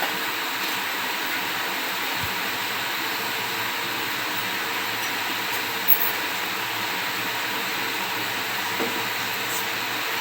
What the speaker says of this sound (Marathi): आता मी याला मिक्सरला लावायला जाते।